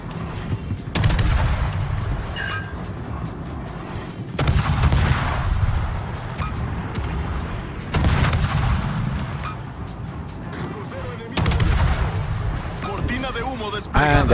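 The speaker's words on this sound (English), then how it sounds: "I'll just smoke up here and use the Jutland guns to set some fires" Heavy battleship guns boom in a naval warfare video game, loud repeated salvos at roughly three-to-four-second intervals with rumbling tails, while someone talks and a game announcer voice speaks over the battle.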